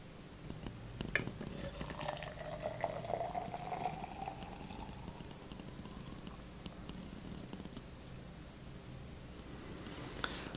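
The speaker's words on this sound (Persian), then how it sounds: "و آب جوش اضافه می‌کنیم." Boiling water poured into a cup of chamomile herbal tea, a faint, quiet trickling stream with a rising pitch as the cup fills, fading away near the end.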